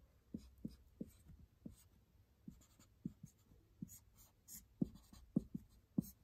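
A pen scratches and taps on paper while sketching a polyamide repeat unit, making short quiet strokes in an irregular rhythm with a few sharper taps toward the end.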